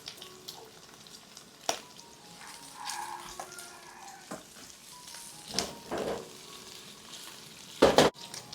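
Garlic and shallots frying in a pan, a soft low sizzle with scattered clatters of stirring utensils and a sharp knock near the end, close and fairly quiet.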